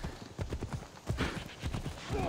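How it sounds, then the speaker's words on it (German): Hoofbeats of a horse in Assassin's Creed Odyssey thud in a quick, irregular rhythm, with a whinny-like tone near the end and faint game ambience underneath. "Mein Pferd rennt immer richtig weit weg"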